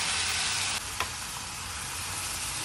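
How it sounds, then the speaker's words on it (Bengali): Spices and salt sizzle steadily in a hot pan for palak paneer, a loud, continuous frying hiss with a brief clink near the start and no voices. "দিয়ে সব একসঙ্গে একটু ভালো করে ভেজে নেব"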